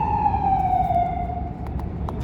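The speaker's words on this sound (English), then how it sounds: "Sirens, that's confirmation." Emergency vehicle siren wailing in a long falling tone, fairly distant and moderately loud over low traffic rumble, with a few faint clicks near the end.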